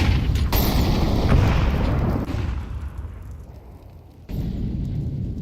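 Grenade explosions in Counter-Strike during a pro tournament match, a heavy booming blast followed by rumbling debris, then a second sharp burst near the end, loud and close with no talk over it.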